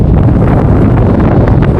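Strong wind at a big mountain viewpoint in Theni district roars continuously into the microphone, loud, close and buffeting, with no voices.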